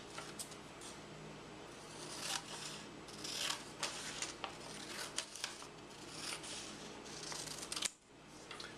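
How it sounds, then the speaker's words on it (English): Repeated short snips and rasping cuts of scissors through paper, close and steady, with soft rustling between strokes and no voices. "Make sure I follow those creases with my scissors as best I can."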